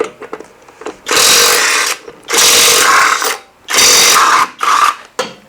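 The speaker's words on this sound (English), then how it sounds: "All right, so these should be tightened to 100 foot-pounds." Alloyman 450 ft-lb electric 1/2-inch impact wrench tightening lug nuts, loud rattling hammering bursts in three main runs with short gaps, close and steady.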